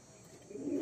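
A show pigeon gives a soft, faint coo near the end, low and brief against quiet background hiss.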